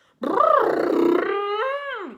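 A voice imitates a tuba with a long, wavering, howl-like tone that swells, holds, then drops off, heard alone without speech.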